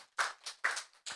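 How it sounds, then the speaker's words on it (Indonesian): A few hands clap in slow, separate claps, four distinct sharp bursts spaced unevenly, fairly faint and with no talk over them. "Tepuk tangan dong"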